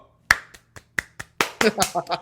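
Hands clap to imitate a seal clapping: a string of sharp, separate claps that start sparse and speed into a quicker run, close and fairly loud, with a voice speaking over the later part.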